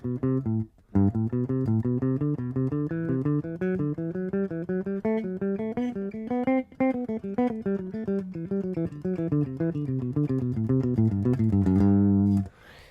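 An instrument plays a major scale exercise as a steady, continuous run of sustained, legato notes that rise and fall through the scale for about twelve seconds, close and clear with no talking.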